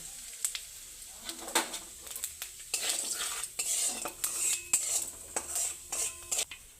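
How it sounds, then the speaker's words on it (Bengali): Whole cumin, cinnamon, cardamom and cloves sizzle steadily in hot oil while a utensil scrapes and clinks against the pan in irregular strokes, close by, with no voices. "এবার তেলের মধ্যে আমি ফোড়ন দিয়ে দিচ্ছি গোটা জিরে আর গরম মশলা"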